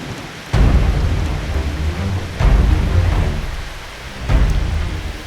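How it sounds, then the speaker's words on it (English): Heavy rain pours down during a thunderstorm over hills, making a dense continuous hiss broken by three loud, rumbling thunder claps at regular intervals. "For days, rain lashes the surrounding hills."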